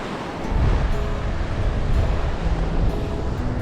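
Surf washing onto a beach at Bay of Fires, Tasmania, a steady broadband wash of breaking waves with gusty wind noise on the microphone, fairly close and continuous, with no voices.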